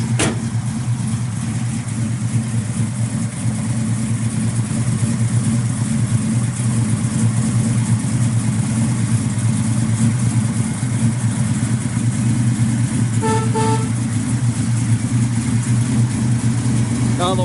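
A 1967 Chevrolet Chevelle Malibu with a K&N breather and sheet aluminum valve covers idles loudly and steadily close by, a deep pounding rumble throughout, with a brief faint tone partway through.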